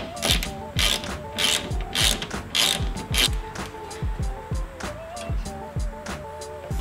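A ratchet clicks in quick repeated bursts while backing out a 10 millimeter bolt from the prop rod of a 2015–2019 Ford Mustang, close and distinct with no talk.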